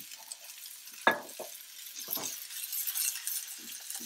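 Garlic fries in oil with a soft steady sizzle, broken by a sharp clink of a utensil against the pan and a few scraping stirs, close and quiet.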